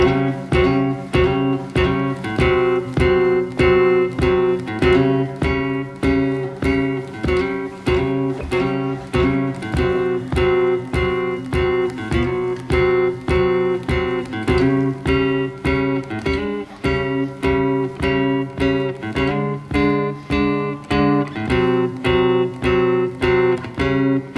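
A guitar strums a blues chord progression with steady, even strokes, loud and close, repeating a shuffling groove without any voices.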